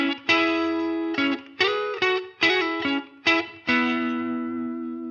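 An electric guitar plays the riff of a song with a clean tone, picked chords ringing one after another in a steady rhythm, each chord decaying before the next, close and clear.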